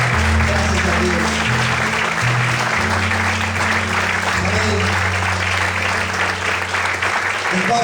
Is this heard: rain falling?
no